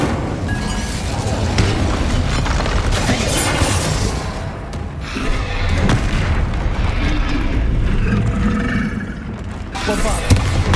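Fiery Confringo and Incendio spell blasts from the Hogwarts Legacy video game during a troll fight, a dense run of booming impacts and crackling bursts over continuous battle noise, with voices talking throughout.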